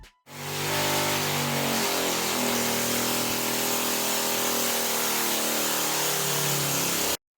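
A BSP clone small engine on a dyno test revs up and holds at high speed, a loud sustained buzzing drone with steady harmonics that cuts off sharply at the end.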